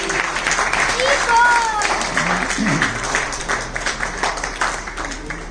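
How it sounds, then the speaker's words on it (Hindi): Audience applause at an ISKCON online singing competition. Clapping swells over a crowd, with scattered voices and a few tonal sounds on top, then thins into a looser, uneven patter. "सब लोग प्लीज तालियां बजाते हैं।"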